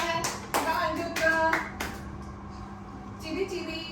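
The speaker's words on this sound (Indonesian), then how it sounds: "Ya, terima kasih tepuk tangan." Classroom applause during a lecture, a short burst of hand clapping over the first two seconds that fades into quieter room noise and faint movement.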